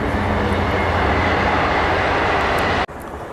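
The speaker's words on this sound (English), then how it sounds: "here comes a train." A loud, steady roar of a short Amtrak train rushing close by, filling the clip before cutting off abruptly near the end.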